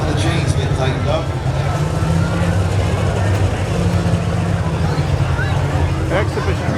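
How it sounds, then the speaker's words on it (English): Super stock pulling tractor engine roaring steadily at a tractor pull at the Columbia County Fair in Chatham, NY, a loud continuous drone with crowd babble and an announcer's voice over it. "The tractor sounds better than it did before."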